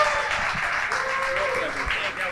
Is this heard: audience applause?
yes